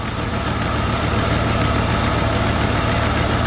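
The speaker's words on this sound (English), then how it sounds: "it's got a major crack in the exhaust manifold. That's what that shitty sound is." A 1974 Ford Country Squire engine with a cracked exhaust manifold idles loudly and continuously with a rough, ticking knock running through the steady drone.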